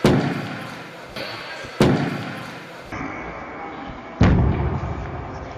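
A microphone is thrown down at a political party meeting, giving several loud, hard thuds that ring out through the hall's speakers and decay between the hits.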